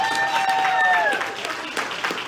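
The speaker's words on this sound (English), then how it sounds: "Please give it up for Elaine Williams." A stand-up comedy open-mic crowd applauds as a comedian is introduced, a dense, fairly loud burst of clapping and cheering with a voice talking over the start.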